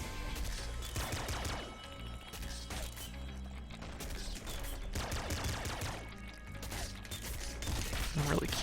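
Hyper rifle firing in Nuclear Throne, a steady stream of rapid mechanical shots in clustered bursts with clattering, ratchet-like texture, dense and loud throughout with no pauses for talk.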